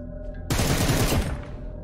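A single heavy shotgun blast in PUBG Mobile, likely a DBS or pump shotgun, bursts out loud and close after a quieter lead-in and rings on for nearly a second before decaying.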